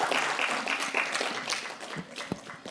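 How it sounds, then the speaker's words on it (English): Applause from a conference audience at a sustainable investment panel, a brief burst of mixed clapping that is fairly close and dense before thinning out toward the end. "Please give them a round of applause."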